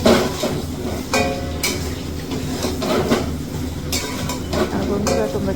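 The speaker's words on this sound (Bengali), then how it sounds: "একটু নাড়াচাড়া করে নিয়ে এবার আলুটাকে নামিয়ে নেব" A spoon scrapes and knocks against a pan while boiled potatoes with turmeric and Kashmiri chilli powder are stirred, with irregular metallic clinks and a soft sizzle over a low kitchen hum.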